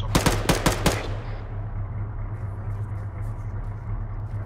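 Gunfire in the Arma military video game, a quick burst of four or five loud shots at the start, then a low steady rumble of engine-like background noise.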